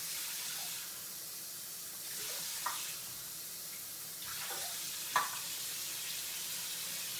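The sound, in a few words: pot of water with pigeon peas starting to boil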